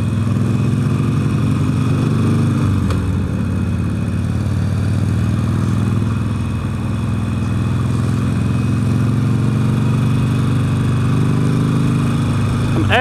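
A motorcycle ridden at moderate speed through Chicago city traffic: a steady, loud engine drone with wind rush that carries on throughout, with a faint background clatter.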